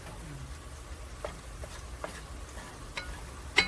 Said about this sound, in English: give that a mix in with that bacon fat.